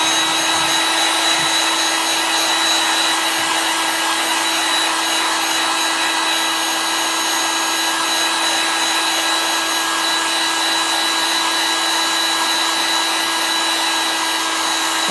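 Hair dryer blowing steadily at close range to dry a folded napkin snowflake craft, a loud continuous whooshing drone with a steady motor hum, running unbroken throughout with no talk.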